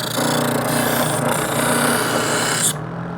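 Electric kitchen knife sharpener, a Homly professional model, grinding a blade in its second stage: a steady, loud abrasive rasp with a constant motor whine that drops off abruptly near the end as the blade is withdrawn.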